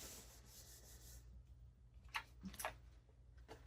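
Ink being rubbed by hand into a textured sublimation surface gives quiet scuffing strokes early on, then a few brief, faint scrapes and taps in a hushed setting.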